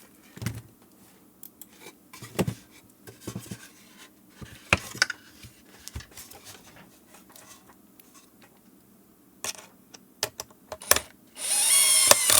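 A power driver sets screws into a wooden two-tier kitchen fruit basket during assembly, giving short close whirring bursts separated by pauses and small handling clicks, ending in a louder sustained buzz.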